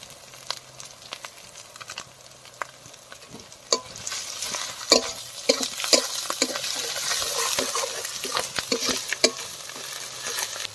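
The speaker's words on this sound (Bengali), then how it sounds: "আমাদের মশলা কষানো হয়ে গেছে" Spices with dry red chili powder sizzle and fry in a pan while being stirred for a chicken curry, with soft scraping and spatula taps over a steady crackle that grows busier midway, close and without talk.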